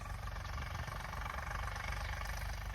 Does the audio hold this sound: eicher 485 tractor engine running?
yes